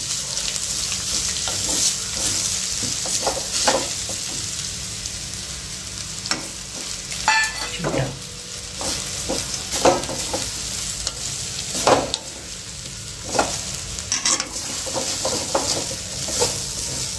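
Grated sweet potato frying in a pan for a fasting-day usal is stirred repeatedly, loud close scrapes and clatters of the spoon recurring every second or two over a constant sizzle.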